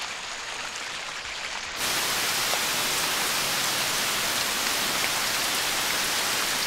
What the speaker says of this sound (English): The first rains of autumn in Israel.